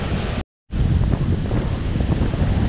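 Strong wind on a beach by the waves buffets the microphone in a loud, continuous roar, broken by a brief dropout near the start before the rumbling gusts resume.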